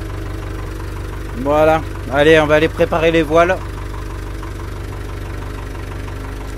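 A boat's inboard engine idles steadily at close range, a low constant rumble running throughout while someone speaks briefly over it.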